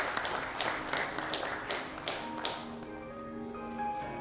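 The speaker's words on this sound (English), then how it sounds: "A huge round of applause" An audience at a cyber security congress inauguration in Kolkata claps steadily for several seconds, a dense patter of hands that thins out toward the end while a faint tone lingers.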